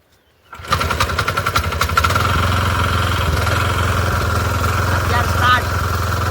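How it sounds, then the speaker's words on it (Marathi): A tractor engine cranks and catches at about half a second, then settles into a loud, steady, throbbing idle close by that runs to the end. "ट्रॅक्टरला स्टार्टर मारतोय."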